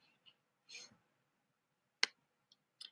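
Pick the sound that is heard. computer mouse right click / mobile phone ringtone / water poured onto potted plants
computer mouse right click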